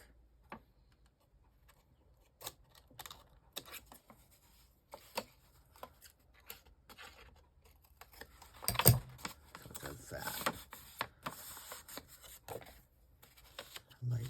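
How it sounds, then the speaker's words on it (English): Paper being trimmed at one corner for a gusset pocket, with scattered close snips, rubs and rustles, and a louder cluster of cutting and handling sounds toward the middle and end. "we're just going to trim out this corner"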